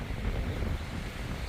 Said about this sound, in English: This wind's been kicking for hours now.